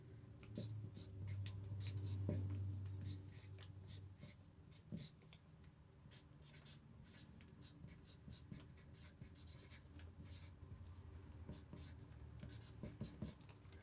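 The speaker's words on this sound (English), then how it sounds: "This is the part where you write something on it." A pen scratches across paper as a secret note is written. The strokes are faint and close, with irregular short scribbles, over a low background hum and soft breathing.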